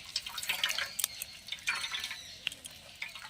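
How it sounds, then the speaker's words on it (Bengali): Washed ash gourd pieces squeezed by hand to press out water, giving faint, quiet drips and splashes of water in short irregular bursts, with no talking. "এইভাবে চেপে চেপে ভালোভাবে জল বার করতে হবে।"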